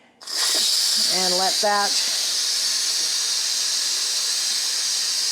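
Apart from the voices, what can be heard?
steam hissing from Instant Pot quick pressure release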